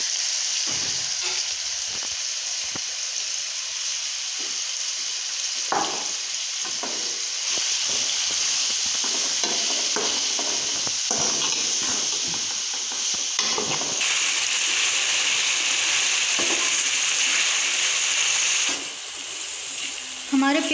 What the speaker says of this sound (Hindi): कढ़ाई में कुकिंग ऑयल डालकर हमने गरम कर लिया है। अब हम इसमें प्याज शामिल करेंगे और इनको ब्राउन कर लेंगे।